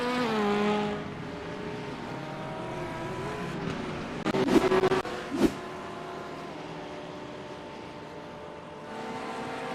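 Simulated race car engines at the Barcelona circuit during a Virtual Belcar sim racing round, with sustained rising and falling engine whine, a passing burst of louder engine noise midway and no talk.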